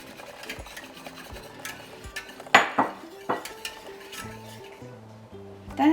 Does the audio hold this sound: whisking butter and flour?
yes